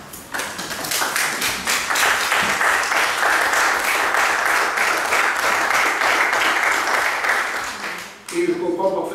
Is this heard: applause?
yes